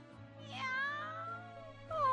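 An animated cartoon cat gives a long, drawn-out plaintive meow close up, followed by the start of another cry right at the end.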